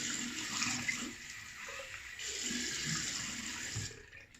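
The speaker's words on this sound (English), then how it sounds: "Alright, cold water splash now." Cold water runs from a tap into a sink for a face splash after shaving, a steady broadband rush at moderate level with slight splashing changes throughout, no voices.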